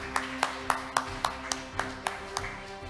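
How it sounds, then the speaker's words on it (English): Scattered, fairly faint clapping after a keynote speech at a youth forum in Busan, South Korea, with about ten evenly spaced claps over three seconds, more like one or a few people than full applause. "Please, let's clap for Ms."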